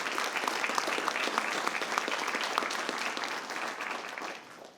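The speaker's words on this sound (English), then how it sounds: "Let's give her and everyone another round of applause." Audience applause fills a school board meeting, a steady dense wash of many hands clapping at moderate level that holds for several seconds before tapering off at the end.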